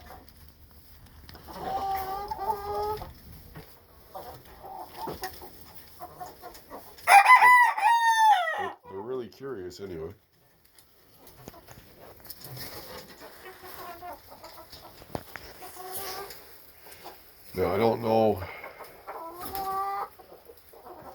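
Large hens around a new free-standing 12 by 12 nesting box cluck steadily, with a loud rooster-like crow partway through and more clucking bursts later, while a person talks quietly in between.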